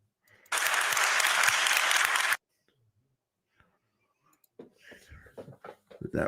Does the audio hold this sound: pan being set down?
no